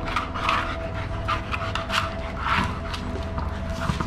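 Several dogs playing together outdoors near a pool, with close, rhythmic panting and bursts of scuffling and rubbing movement, fairly loud and continuous with no talking.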